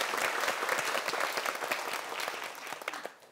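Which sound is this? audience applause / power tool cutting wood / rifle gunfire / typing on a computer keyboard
audience applause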